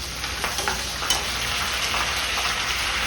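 Curry leaves and dried red chillies crackle and sizzle in hot tempering oil, a steady close hiss broken by small popping spatters, with no talking.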